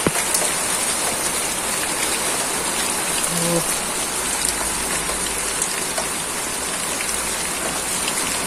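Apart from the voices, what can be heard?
rain falling after a dry month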